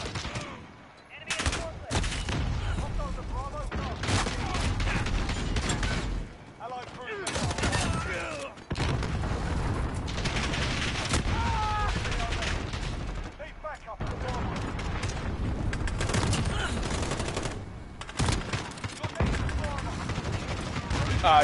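Sustained bursts of gunfire from Jackie's gun in the video game Cyberpunk, loud rapid shots in long stretches with short pauses between volleys.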